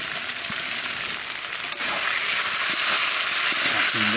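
Fried potatoes go into a chicken curry pan at a village cookout on a boat, giving a loud, dense, continuous sizzle with a few soft stirring clicks.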